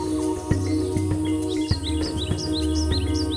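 Chirping bird song in a misty forest, repeated short tweets against a steady insect-like hum and faint rustling, fairly soft and continuous.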